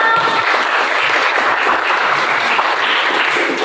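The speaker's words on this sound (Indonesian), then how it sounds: "Tepuk tangan dong." Short burst of loud, dense applause from an audience during a classroom teaching presentation, steady clapping heard close and alone throughout.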